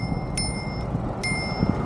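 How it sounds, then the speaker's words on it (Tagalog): Two quick metallic bicycle bell rings, about a second apart, over a steady rumble of riding on an afternoon bike outing. "Ring your bell."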